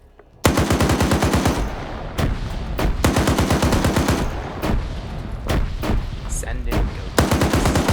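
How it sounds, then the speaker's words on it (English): Rapid automatic gunfire sweeps back and forth in a video game, loud and close, in long bursts with short gaps, and a voice speaks briefly between shots. "doing some transversing fire back and forth"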